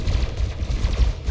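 Heavy cannons on an Elite Dangerous Corvette firing in the video game, heard as a rapid run of deep, booming shots with strong low-end thumps, loud and close with no talk.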